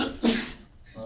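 A single sharp sneeze from someone in a chemistry lecture hall, a sudden breathy burst close by that fades quickly over a quiet room.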